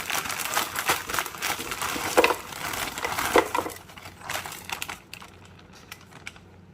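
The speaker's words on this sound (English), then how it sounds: "We're gonna go ahead now and add our frozen broccoli." Frozen broccoli florets poured from a bag into a Ninja Speedi cooker, a close, dense rattling clatter of hard frozen pieces tumbling in for several seconds before trailing off into a few light knocks.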